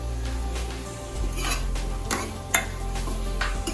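Chicken and potatoes stirred in a pan with no added spices, producing repeated close scraping strokes of the utensil over a steady frying sizzle.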